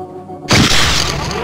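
In the 2000 PC shooter Gunman Chronicles, a target is destroyed in a sudden loud explosion that bursts in after a low hum and keeps roaring as a dense, sustained blast.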